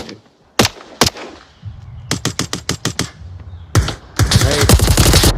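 Gunfire in the VR shooter game Onward: a few isolated loud shots, then a rapid string of evenly spaced shots and a dense final burst, all close and sharp, with no talk.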